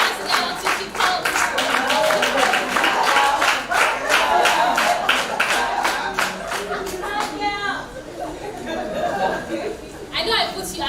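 An audience at a business mentoring session claps in a steady burst of applause that tapers off, with murmured chatter and a few chuckles underneath and a lone voice near the end.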